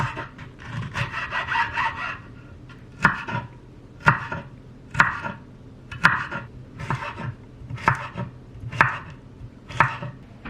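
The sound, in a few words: chopping food with a knife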